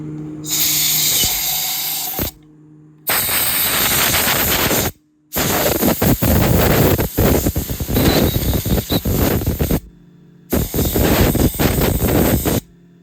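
Loud, hissing bursts of pressurized spray blast debris out of the bottom of a sawmill fuel tank in several long blasts separated by short pauses, close up, with intermittent spattering and a low hum.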